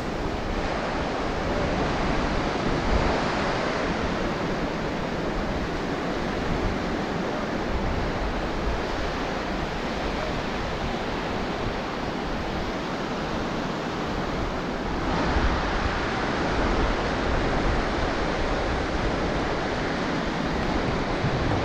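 Surf rolls in continuously on an isolated beach at Rajbag, Goa, a loud, broad wash of breaking waves with wind, steady throughout with no voices.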